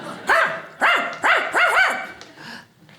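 A comedian's voice imitates Lassie the dog barking, four harmonic bark-like yelps in quick succession followed by a softer whine, loud and close with no other talk.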